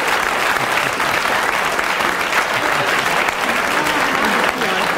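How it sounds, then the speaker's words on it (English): Studio audience on a radio panel comedy show breaks into steady, dense applause that fills the whole stretch, loud and continuous without a break. "He certainly deserved his round of applause for keeping going"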